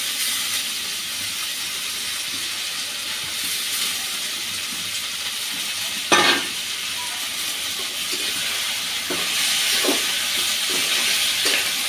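Yardlong beans and flat beans frying in a pan over the stove for a vegetarian bhorta, giving a steady close hiss and sizzle with a brief louder burst partway through and faint stirring clatter.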